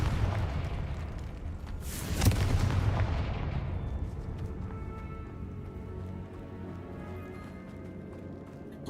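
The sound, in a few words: Confringo blasting curse explosions in Hogwarts Legacy video game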